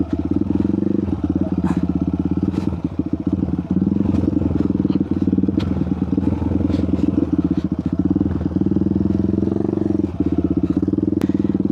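An off-road vehicle's engine drones steadily as it climbs a steep, slippery forest track, with continuous loud rumbling, occasional revs and rattling clatter throughout.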